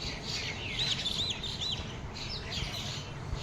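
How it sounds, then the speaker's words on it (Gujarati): Birds, parrots among them, arriving to feed after rain, give a few faint, high chirps and whistles over a steady outdoor hiss. "અનેક પક્ષીઓ આવી રહ્યા છે, પોપટ સહિત."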